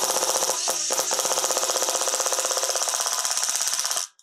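A Makita DTD173 impact driver set to its slowest speed drives a screw, a loud rapid hammering rattle that runs continuously for about four seconds, with a brief hitch early on, then stops abruptly.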